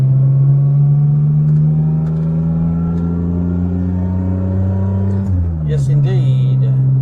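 A 1985 Suzuki Mighty Boy heard from inside while driving past a truck: a steady, close engine drone that dips and shifts pitch near the end, with faint voices over it.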